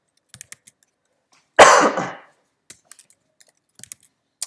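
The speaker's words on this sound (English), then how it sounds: "So I type new letterhead." Sparse, light keyboard clicks from someone typing on a computer, with a loud nearby cough or throat clear in the middle.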